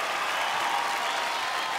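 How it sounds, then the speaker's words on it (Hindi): A studio audience applauding after a dance performance on a television show, dense continuous clapping from many hands, loud and steady for the whole stretch. "जोरदार तालियां।"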